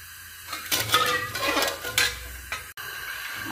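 A spoon scrapes and clinks against a pan while sugar syrup is stirred over high gas, giving several uneven bursts of metallic stirring with a faint sizzle underneath.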